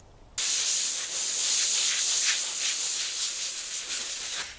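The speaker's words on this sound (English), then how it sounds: "Use the compressor to clean the visor." A 150 psi air compressor's nozzle blasting air to clean a visor, heard as a sudden loud, continuous close hiss that starts abruptly and holds steady, easing slightly before cutting off.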